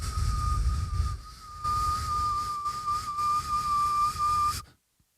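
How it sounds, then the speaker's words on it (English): A person whistling one steady sustained tone with slight wavering pitch for several seconds, held over low background noise, then stopping abruptly. "That was a pretty bullish whistle"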